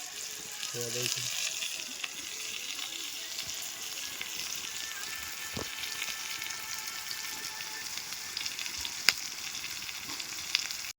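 Chili and tomato fry in hot oil as the base for a chicken curry, giving a steady, soft sizzle throughout with a few faint clinks and light voices in the background.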